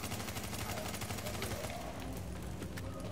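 Video game gunfire rattles in rapid automatic bursts, loud and up close, with a heavier thud partway through as the firing thins out toward the end.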